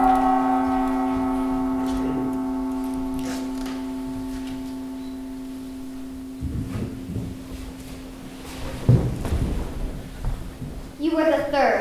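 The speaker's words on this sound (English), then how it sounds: "The bell tolled, slow and solemn." A single slow toll of a church bell in a sixth-grade school stage production of A Christmas Carol. The ringing tone lingers and fades for several seconds before thumps and stage knocks take over.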